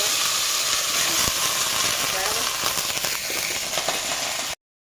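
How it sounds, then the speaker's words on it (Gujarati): Spices crackle and sizzle in hot oil as a tempering for kadhi is made, a steady dense hiss running loud and close for most of the span before cutting off abruptly near the end. "તેલ પણ આવી ગયું ફટાફટ તો એમાં વઘાર કરવાનો"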